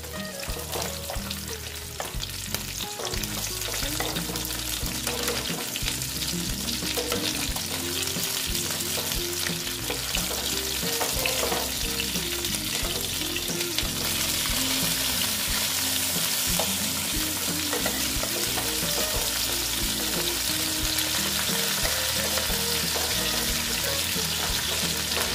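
Pabda fish sputters and sizzles continuously in hot oil for a long stretch, with frequent clinks and scrapes of the spatula as the pieces are turned. The frying stays close, loud and even, with no voices.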